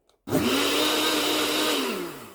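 Princess 212011 blender/chopper switched on after a brief click, its motor whirring loud and steady for about two seconds, then winding down slightly at the end.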